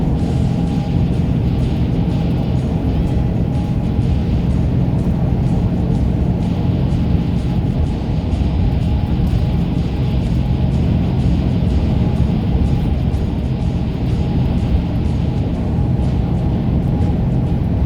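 UPS delivery truck driving in Canada, heard from inside the cab as a steady, loud, low engine and road rumble that holds unchanged the whole time.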